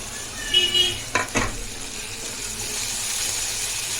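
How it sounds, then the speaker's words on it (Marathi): Tomatoes sauté with softened onions in a pan, a steady close sizzle with a couple of brief stirring scrapes near the start. "ह्याला चांगलं परतून घेऊया"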